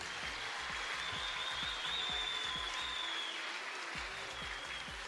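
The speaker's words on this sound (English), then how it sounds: "give these instructors a big round of applause" A crowd gives a round of applause for the instructors at the Jungle War XI 2023 fighting event, a steady wash of clapping with a thin whistle riding over it for several seconds.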